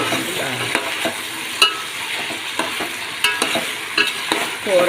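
Vegetables with ginger-garlic paste and turmeric being stirred in a pan for Chennai sambar, a steady sizzle broken by repeated scraping strokes of a spoon at a close, even pace.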